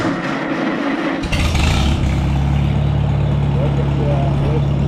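A petrol engine started without choke cranks and catches about a second in, then settles into a steady, close running idle.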